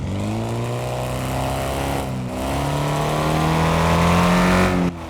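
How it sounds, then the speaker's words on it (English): Simulated car engine from Car Mechanic Simulator 2026, droning steadily while driving down a road, its pitch climbing gradually as it accelerates, loud and close, with no talk over it. "listen to what the engine sounds like whenever we're driving down the road too."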